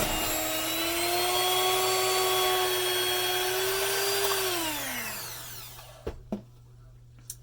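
An electric hand mixer whips homemade body butter with fragrance oil in a bowl, a loud, close, steady whine that winds down and stops, followed by a few brief knocks.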